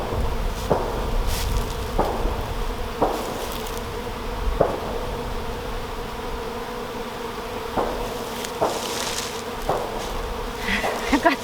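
Honey bees swarm and buzz steadily around an opened hive during an inspection, a dense, continuous drone with occasional louder passes as individual bees fly close.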